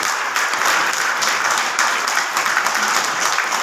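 Steady, dense applause from an audience at a Modicare achievers' recognition event, sustained evenly for a few seconds with no talking over it.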